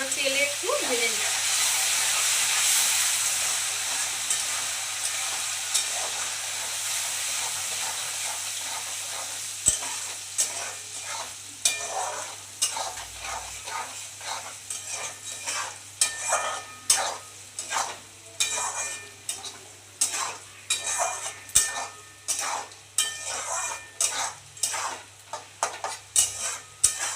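Washed Gobindobhog rice sizzles in hot oil in a pan while a utensil scrapes and stirs it in a steady run of short, repeated strokes, the frying hiss continuous underneath; a voice speaks briefly near the start.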